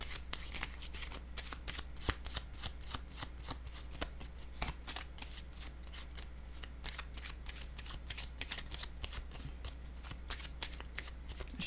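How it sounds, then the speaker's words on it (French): Tarot cards being handled and shuffled, a dense run of rapid crisp flicks and snaps with a few sharper taps as cards are laid down, close and steady. "Je vais déposer une autre carte ici,"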